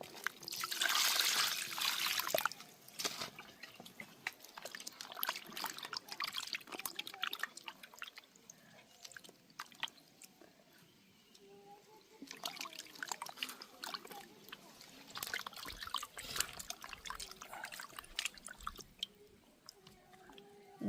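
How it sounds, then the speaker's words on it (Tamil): Country chicken meat being washed in water, with soft drips, trickles and squishy handling sounds that come and go in bursts, fairly quiet and close, with no one talking. "அந்த இறைச்சியை வந்து வடிவாக நீட்டாக கழுவி எடுப்போம்"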